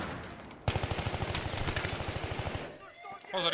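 Rapid automatic gunfire in a video game rattles out in one long, loud burst of about two seconds, then breaks off as players start talking.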